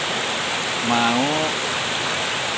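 The strong, fast current of the Cimandiri River in Sukabumi makes a loud, steady roar of rushing water, with a brief spoken word breaking through partway.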